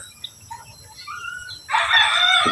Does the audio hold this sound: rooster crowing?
yes